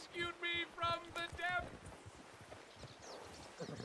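Horse hooves clip-clop in steady rhythm in the video game Red Dead Redemption 2, on the way into a town, close and clear, with voices talking over part of it.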